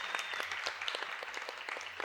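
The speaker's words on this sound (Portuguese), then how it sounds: "Palmas para ela," An audience applauds at a São Paulo music-industry event celebrating women's festivals, a dense, even patter of many hands clapping heard from within the crowd.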